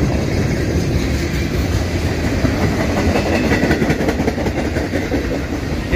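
A Norfolk Southern mixed manifest freight train rolls past close by, its cars giving a steady, loud clickety-clack of wheels over rail joints throughout, with no voices.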